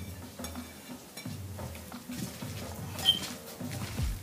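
Pomelo chutney being mixed by hand in a bowl, a soft wet squishing and patting texture repeating in irregular strokes, close and fairly quiet with no talking.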